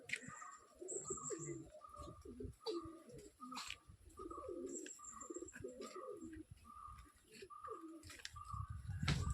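Several varieties of pigeons coo repeatedly in a soft, rhythmic series of low rolling calls, with occasional chirps and faint background rustling.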